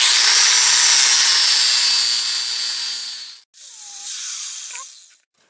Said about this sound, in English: Let me put a little more grind on that.